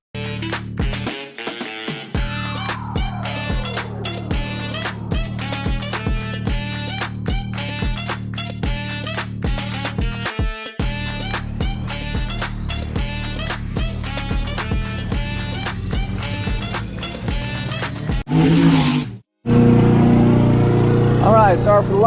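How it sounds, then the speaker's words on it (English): A lawn mower's steady mechanical engine drone runs throughout with rhythmic clicking and tapping on top, briefly cutting out near the end before resuming louder. "sorry for the lawnmower noise"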